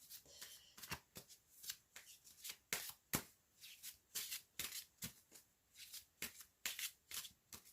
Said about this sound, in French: je vais bien battre les cartes